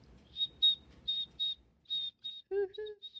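A person whistles short, high trills in quick bursts to imitate crickets chirping, about eight clipped chirps in an uneven rhythm, ending in a few lower wavering whistled notes. The whistling is close and fairly loud, with no talk over it.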